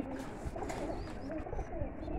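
Lakha and Giribaj pigeons cooing at a pigeon seller's stall, a low steady murmur of coos from several birds close by, continuous over a busy background.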